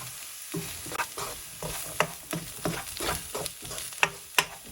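Garlic, ginger and a mild supermarket chilli sizzle steadily in a pan for a homestyle curry, with repeated scraping strokes of a spoon stirring through them at a brisk, even rhythm, close and alone.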